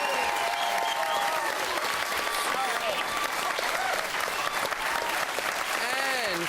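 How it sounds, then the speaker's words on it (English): A studio audience at a televised Christmas music quiz show applauds choirs and their choir masters, a dense, continuous wash of clapping with voices and cheers mixed in throughout. "can we have a round of applause for both our choirs and choir masters?"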